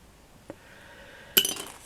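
Victorian black glass mourning buttons clinking together, a faint single tap followed by a brighter cluster of quick glassy clinks, close and alone with no talk.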